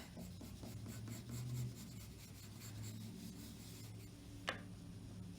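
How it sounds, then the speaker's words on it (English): A pencil lightly sketching on paper while drawing a rabbit, giving a soft, steady scratchy rubbing with faint repeated strokes, close and quiet with no talk over it. "Grab your pencil, and right about here, you're going to make, just lightly sketch in kind of a fat pear shape."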